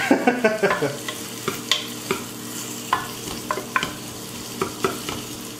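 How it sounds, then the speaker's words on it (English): Onion and garlic cooking together in a pot, with repeated stirring scrapes and knocks over a low, steady sizzle, close and moderately loud with no talking. "onion and garlic together in a pot makes for some great flavors"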